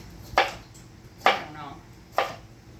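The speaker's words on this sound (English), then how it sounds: "we're going to kind of roughly chop these into sort of," A knife chops food into rough cubes on a board in three separate sharp strokes, each close and clear, with quiet pauses between them.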